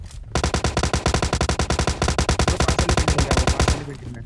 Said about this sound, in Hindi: गनशॉट से आपको पता चलेगा कि हाँ भाई एक दो बंदे गोलियां चला रहे थे।